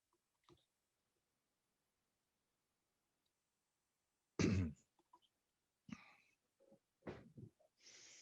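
A few short, sharp coughs or throat-clearing sounds, close and isolated, separated by quiet pauses.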